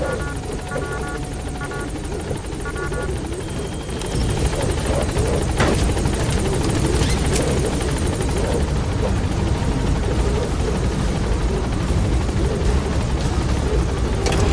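Pequod helicopter from Metal Gear Solid V hovering at a landing zone, a loud steady rotor roar and turbine whine that grows fuller and louder partway through and holds close throughout, with no talk.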